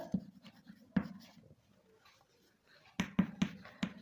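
A pen writes an answer on paper in quick, scratchy strokes, close and fairly faint, with a lull in the middle and a rapid burst of strokes near the end.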